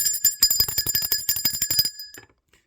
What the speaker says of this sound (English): I'm ringing the bell for that.